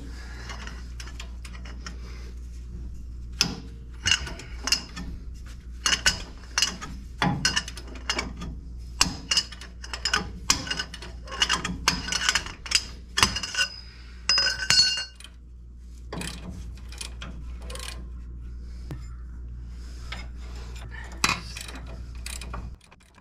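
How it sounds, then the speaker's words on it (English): An 11/16 deep socket on a ratchet loosens shock bolts on a Nissan Hardbody truck, with rapid clicking ratchet bursts and metallic clinks of tools up close, under faint background hum. "I'm pretty sure here we're using a 11/16 deep socket to get these bolts off."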